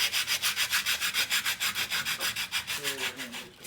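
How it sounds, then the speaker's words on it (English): Sandpaper held at an angle is drawn down a corner of a wooden piece in about twenty quick, even rubbing strokes, close and clear with no talk. "we just want to have the sandpaper on an angle and just go down like this"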